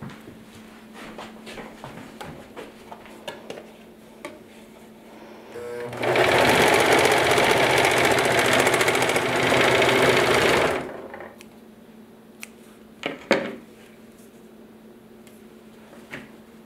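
A sewing machine stitches a bag seam in one steady, loud, whirring run of about five seconds, with quieter handling clicks and rustles before and after.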